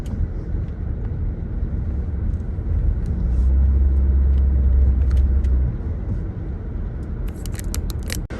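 A car drives through Armadale with a steady, low engine and road rumble heard from inside. The sound holds evenly for the whole stretch, swelling slightly midway, with no talking.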